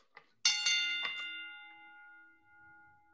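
A Tyson bell, a ringing metal bell struck a few times in quick succession, each strike clanging brightly and then leaving a long sustained ring that slowly decays to quiet.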